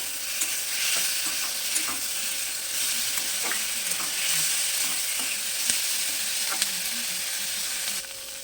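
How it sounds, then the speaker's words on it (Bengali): Chicken masala frying with dried red chillies in a pan, a steady bright sizzle with occasional scrapes and clicks of stirring throughout. "একসঙ্গে সব কিছুকে আমি বেশ ভালো করে একটু ভেজে নেব"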